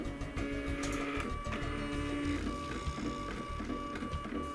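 A smart laser engraving machine starts engraving, giving a busy mechanical whirring with steady motor tones and rapid stepping ticks at close range, with no talk.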